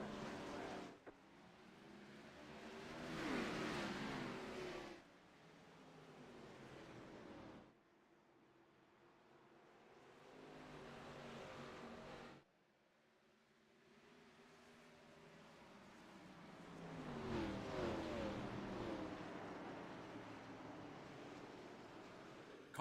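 Race cars in a video game at Martinsville Speedway roar in a pack on a restart, engine noise swelling and fading in waves over about twenty seconds, fairly quiet overall.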